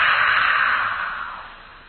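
A single breathy, open-mouthed H exhale, the kind used to fog glasses before cleaning them, soft and airy, starting close and fading steadily over about two seconds with no talk.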